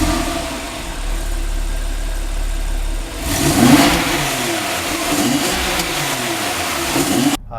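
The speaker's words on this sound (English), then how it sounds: "give you a little rev so that you can hear what it sounds like from the outside" A 2012 Porsche 911 Carrera S, heard from outside, idles with a low steady drone, then its engine is revved into a sharp rising roar that sweeps up and settles back over several seconds.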